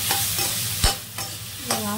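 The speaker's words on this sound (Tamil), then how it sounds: "தக்காளி வெங்காயம் புளி மூணையும் போட்டு நல்லா நல்லா வதக்கலாம்" Tomato, onion and tamarind sautéing in a pan for manathakkali puli kulambu, with a steady close sizzle broken by several sharp stirring scrapes and knocks; no voices.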